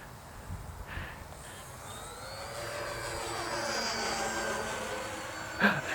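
An E-flite EC-1500 Twin 1.5m PNP RC airplane flies overhead, its twin motors whining and swelling from faint to a loud pass with rising and falling pitch.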